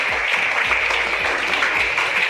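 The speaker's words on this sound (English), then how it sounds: "big round of applause for Firoz Patel" An audience at a school quiz competition applauds a team member, a steady, dense wash of clapping from many hands that holds evenly throughout.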